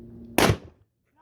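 A single sharp SKS rifle shot cracks at a target outdoors, loud and close, then a short decay into quiet.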